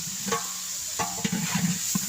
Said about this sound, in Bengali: চিংড়ি মাছটা সুন্দর করে এভাবে ভেজে নেবেন আপনারা